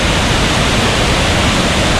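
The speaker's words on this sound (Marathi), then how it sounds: "हा बघा केवढा मोठा धबधबा आहे" A large waterfall roaring as a dense, unbroken wash of noise, loud and close with no other sounds over it.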